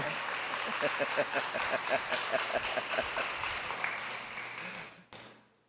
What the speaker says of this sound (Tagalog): Ang hina naman ng palakpak na yan.